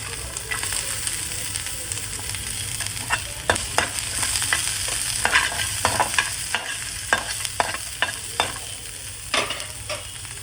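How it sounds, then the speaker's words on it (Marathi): Ginger and garlic fry in a pan while village-style mutton is prepared, with a continuous close sizzle broken by repeated sharp scrapes and clacks of stirring, and no voices. "आता आपण ह्याच्यामध्ये आलं आणि लसूण भाजून घेऊया"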